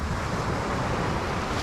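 Ocean surf rolls onto a beach in a dense, constant roar mixed with wind buffeting the microphone, with no voices.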